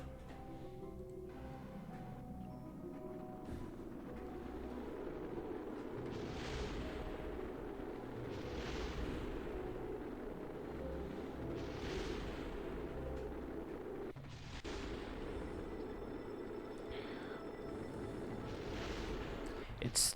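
A rocket exploding in a space video game, a long rumbling roar of booms and bursts that keeps going, with a person talking over it at times.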